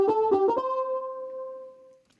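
Fuzzotic patch of the Hypha synth plugin playing a few quick stuttered notes that settle into one sustained, fuzzy synth tone, fading out over about two seconds with nothing else around it.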